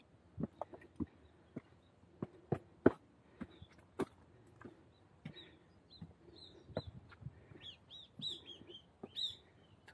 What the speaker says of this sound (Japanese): 鳥のさえずりが 心を和ませてくれます。